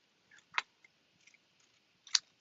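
Scissors snip through paper while cutting out banana shapes for a handmade monkey-themed card, giving two quiet, crisp cuts spaced well apart with faint ticks between them.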